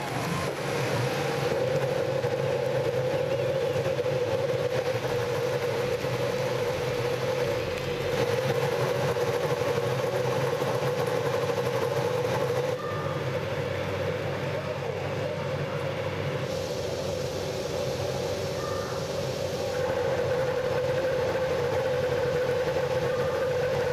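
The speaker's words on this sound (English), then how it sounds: "drivers, start your engines." IndyCar race car engines at the Camping World Grand Prix at Watkins Glen drone together in a steady, loud, continuous roar from a crowd of idling cars, with no voices over it.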